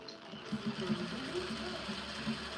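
A sewing machine runs a quarter-inch seam on hoodie fabric, a faint steady mechanical whir with rhythmic stitching pulses, and a voice speaks quietly beneath it.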